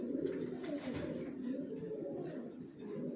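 Caged racer pigeons coo in low, throaty, overlapping bursts, a continuous close murmur of several birds.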